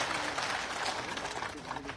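Crowd at an outdoor political rally in Didwana claps in a dense, steady round of applause, fairly loud and continuous, with faint voices mixed underneath.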